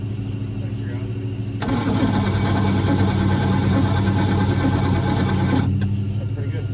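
Boat engine cranking and catching, a steady loud mechanical churn starting abruptly and running for several seconds before cutting back, with a voice faintly present.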